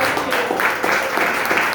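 A church congregation gives a strong round of applause for Christ, a dense burst of clapping with a voice carrying over it, close and loud.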